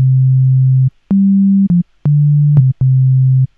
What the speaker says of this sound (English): What we have pulled up here in our first oscillator is a sine waveform.